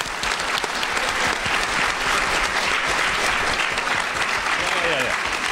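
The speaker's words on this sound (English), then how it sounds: "One more time, round of applause for our lovely panel." Audience applause for a panel at the RTX 2017 convention, a dense, steady clapping roar from a large crowd that fills the whole stretch at an even level.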